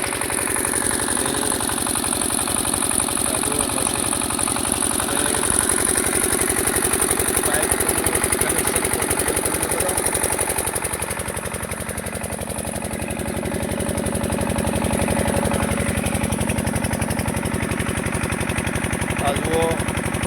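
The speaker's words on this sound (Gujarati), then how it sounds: "આ મશીનનો જુગાડ જુઓ" A makeshift engine-driven farm pump drones steadily and loudly, lifting water to recharge a borewell in a field. The rapid putter runs continuously throughout, with a voice faintly audible underneath.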